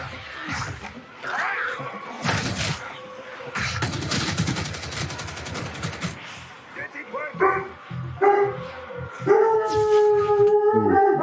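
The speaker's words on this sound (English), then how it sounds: "Sorry, it's my dog." A pet dog barks in bursts and then howls in long, wavering tones, heard close and loud while a voice talks at times in the same stretch.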